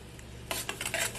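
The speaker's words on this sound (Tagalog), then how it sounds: "At halu-haluin lang po natin yan" A utensil stirs food in a cooking pot, giving a few quick scraping, clinking strokes after a brief quiet start, faint and close.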